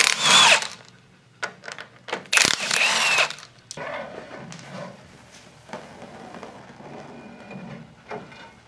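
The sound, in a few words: power tool removing axle bolts on 14 bolt axle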